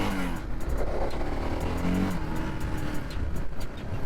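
A 1986 Yamaha XT600 single-cylinder motorcycle pulls hard through its gears on the road, its engine note rising in steady, continuous drones, close and loud with no talking.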